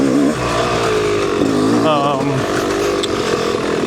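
Dirt bike fitted with a full Pro Circuit exhaust, Champ Stamp pipe and Shorty silencer, riding singletrack trail at Minooka Park in Jemison, Alabama; a loud, close engine note wavers up and down in pitch as it lugs along.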